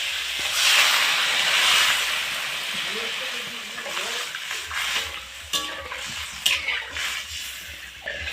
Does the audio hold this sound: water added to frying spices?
yes